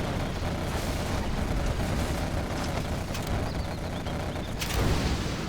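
Mine drop explosions in a competitive strategy video game match: dense, continuous rumbling blasts and booms fill the scene, with a sharper burst near the end.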